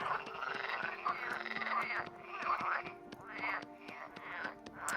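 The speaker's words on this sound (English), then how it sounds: "I'm making clay while the frogs go to town." Frogs croak in a dense, overlapping chorus around a pond in the survival game Vintage Story, with pulsing bursts over steady background calls. The sound is fairly quiet and close, with no talk.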